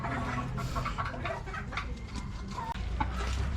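Gamefowl roosters, including a Boston Gold line, cluck at a rooster farm amid a steady bed of overlapping fowl noise, with scattered close clucks and calls and no talking.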